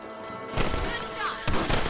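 Rifle shots fired at rabbits in the Western game Red Dead Redemption, two loud sharp blasts about a second apart, each followed by a short echoing tail over a faint ambient game bed.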